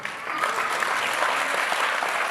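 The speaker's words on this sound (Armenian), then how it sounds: "Եկեք շատ բարձր ծափարենք։" An audience applauds at a dance show, dense continuous clapping from a sizable crowd with no break.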